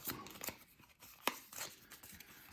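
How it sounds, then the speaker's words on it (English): A deck of Warhammer Quest: Cursed City game cards is shuffled nearby, giving quiet, irregular riffling snaps and flicks with one sharper slap partway through. "You've really got to shuffle these well, otherwise every round it's the same thing."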